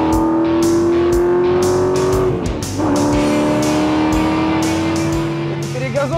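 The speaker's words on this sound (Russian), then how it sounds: "Перегазовки" A 700 hp Chevrolet Corvette Z06 engine blipped hard and loud, two sustained revs with a brief dip between them, its exhaust roaring up close.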